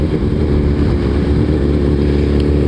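Suzuki Hayabusa motorcycle engine downshifting, a loud, steady close-up drone with no break over a couple of seconds.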